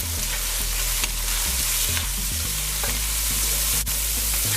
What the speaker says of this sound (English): I'm gonna just fry the shrimps for 3 minutes.